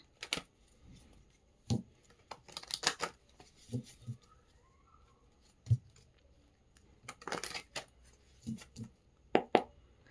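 Tarot cards being shuffled by hand: scattered soft riffles, slaps and taps of card stock come in short irregular bursts with pauses between. Close and quiet, with no talking.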